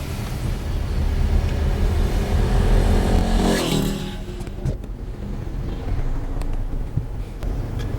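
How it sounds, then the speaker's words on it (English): Cars and a motorbike pass on a road in the Dominican Republic. A loud engine roar builds and sweeps past close by, then gives way to quieter traffic rumble with scattered clicks. "Now what we're going to get here is cars coming up the inside like this one now."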